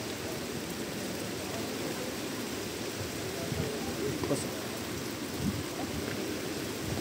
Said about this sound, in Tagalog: Pero ambon-ambon lang ano.